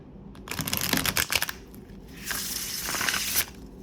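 A gilded tarot deck is riffle shuffled twice in close succession, each a crisp, fluttering burst of card edges snapping together, close and fairly loud with brief quiet between.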